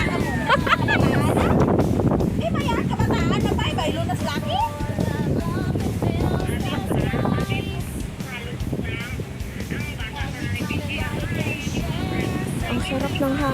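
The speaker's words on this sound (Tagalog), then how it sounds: "Ang sarap ng hangin guys dito sa Kagubatan." Wind gusting through a Hong Kong forest above the sea, a loud, rushing buffet across the microphone that continues under a person talking.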